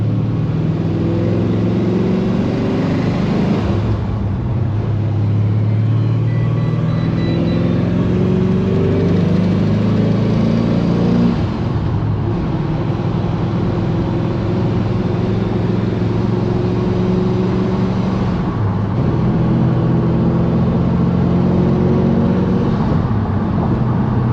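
A supercharged (Procharger) Pontiac GTO on the road, running on E85, gives a loud, steady engine drone heard from inside the car, with brief dips as the driver shifts gears between stretches of pulling.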